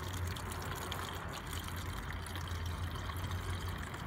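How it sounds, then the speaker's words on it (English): Melted beeswax and water pour steadily through a filter, a continuous close liquid gush and trickle running unbroken for the whole stretch with no talking. "very carefully we pour the whole lot through. It should filter through nicely."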